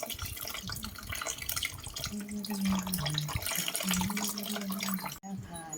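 Plain water poured as an offering to a Ganesha figure during a home puja, a steady splashing trickle running throughout beneath sustained tonal chanting or music.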